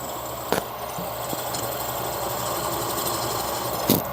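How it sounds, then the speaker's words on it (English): A drill bores into a cast-iron manifold, opening a broken stud hole for an 8mm thread insert. It gives a steady mechanical whirr throughout, with a couple of sharp knocks near the start and end. "Right, so that's now drilling."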